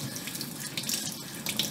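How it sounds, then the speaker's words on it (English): Water runs steadily from a sink tap while a paint brush is squeezed clean under it, a continuous close hiss and splash. "get your sink running, and then you just squeeze it until the water comes clean"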